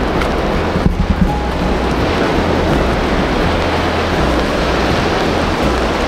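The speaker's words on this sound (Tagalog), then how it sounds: "The waves." Surf rolls onto a beach near the Pacific at Baganga, Davao Oriental, heard as a constant loud broadband wash with a rumbling low end and wind buffeting the microphone, with no voices.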